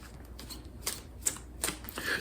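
Tarot cards are shuffled and drawn by hand, giving soft irregular flicks and riffling slaps close up, with a brief card snap near the middle, over a faint steady background hiss and no speech.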